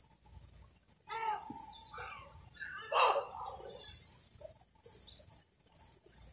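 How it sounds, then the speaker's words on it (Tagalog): Birds call and chirp in the mountains, several short, faint tweets and whistles scattered through the quiet, one sharper call standing out midway. "Ayun, yung mga ibon."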